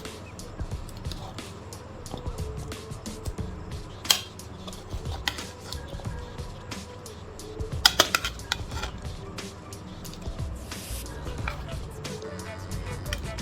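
Pre-fried chicken pieces going into a pan of butter chicken sauce, with scattered clinks and scrapes of a utensil against the pan and a louder cluster of clatter near the middle, over a low simmering background.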